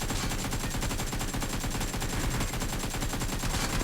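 Dense rapid gunfire from PUBG Mobile hammers away without pause, loud and close, a continuous burst of automatic shots filling the whole stretch.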